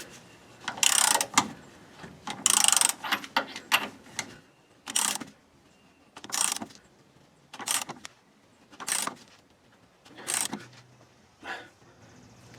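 A 1/2 inch drive extendable ratchet tightening a fitting during a Dodge Ram pitman arm replacement, sounding as a series of about eight loud, close bursts of rapid clicking, each separated by brief pauses, with no talk.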